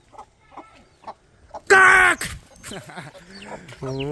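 A chicken clucks nearby with short, soft, spaced clucks, then one loud, drawn-out call, followed by more calling and some human voice sounds.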